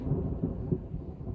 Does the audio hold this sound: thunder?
yes